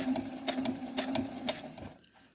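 A Brother HS-1000 computerized sewing machine stitching at close range, with a steady motor hum and a regular mechanical tick of the needle about twice a second, then slowing to a stop.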